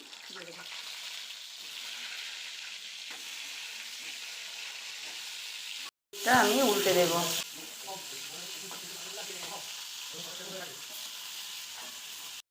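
Pointed gourd (potol) frying in hot oil in a kadai, a steady close sizzle that surges into a louder burst of crackling midway, with a voice speaking briefly over the frying.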